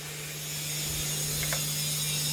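Ring filing tool cutting a piston ring gap during a check-up on a 2014 Mercedes E63 4matic with 44k km, a short close, faint scraping ratchet-like rasp over a steady hum.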